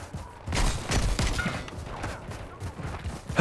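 Sustained gunfire in the shooter video game Call of Duty Modern Warfare 3 during a team deathmatch on the Derail map, dense overlapping shots loud and steady throughout.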